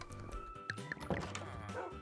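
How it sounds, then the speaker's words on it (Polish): A small dog in the Minecraft video game gives a few short barks and yips, fairly close, over a bed of steady game music. "Ale fajnie, patrzcie, mamy pieska."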